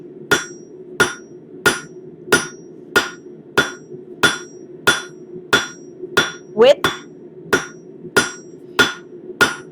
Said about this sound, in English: So by hammering in the center